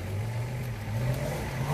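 A green Suzuki Vitara off-roading throws out a steady, loud engine roar with a deep low rumble that swells slightly as it revs, continuous and close throughout.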